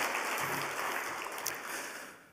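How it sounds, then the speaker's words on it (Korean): Congregation applauding during a Friday church worship service, a brief, moderately faint patter of many hands clapping that fades away over a couple of seconds. "다시 한번 격려의 박수 보내드리겠습니다"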